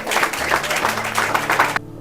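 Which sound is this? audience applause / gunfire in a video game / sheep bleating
audience applause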